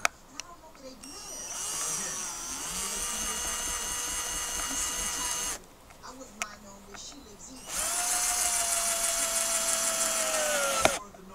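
A power drill drives screws into a cat tree, whirring in two sustained bursts with a short pause between them, close and moderately loud, with a few small clicks and knocks.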